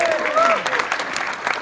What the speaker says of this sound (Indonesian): Boleh tepuk tangan dulu dong.